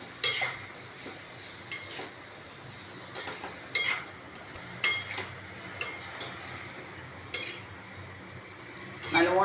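Curd is stirred into cooked pumpkin in a pot, with a spoon clinking and scraping against the metal in a steady rhythm of sharp taps, close by, and a voice speaking briefly.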